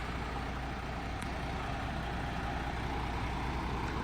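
A MAN dump truck's large diesel engine runs steadily nearby, a constant low drone with a broad hiss and no voices.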